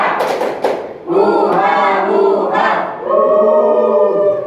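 A classroom of students shouts the Tepuk Papua clapping chant in unison, loud rhythmic group calls with claps through most of the clip, after a few sharp opening claps.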